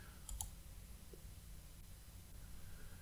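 A single crisp computer mouse click, close and faint, followed by quiet room hiss.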